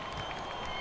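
Arena crowd in NBA 2K19 at a Pelicans–Lakers game, a steady wash of applause and crowd noise filling a brief moment, loud and continuous without breaks.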